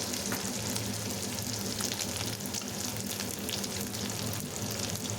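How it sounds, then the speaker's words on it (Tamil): Onion and grated coconut fry in a pan over a medium flame for a chicken thanni kulambu, a constant dense sizzle heard up close, with no talking. "வெங்காயமும் தேங்காயும் நல்லா வதங்கி வரணும்."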